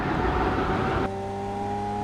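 A Lamborghini engine in a video game drones steadily, first as a broad roaring rush and then settling into a smooth, even tonal hum with no talk.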